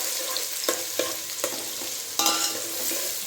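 Onions fry in hot oil for chicken sukka with a loud, continuous close sizzle, broken by a few scraping stir strokes and one stronger burst as more onion goes in.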